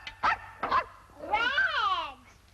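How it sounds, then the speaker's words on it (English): A puppy yaps twice in quick succession, then lets out a longer whining, rising-and-falling yelp, close by and clear against a quiet indoor background. "He's not a dog, Mother. He's only a puppy."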